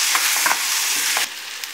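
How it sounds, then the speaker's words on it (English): Chopped tomatoes hiss and sizzle in a hot pan of onion masala for egg masala while being stirred, a loud bright frying crackle broken by soft scraping strokes, easing slightly toward the end. "Now we will add our tomatoes and we will mix it well."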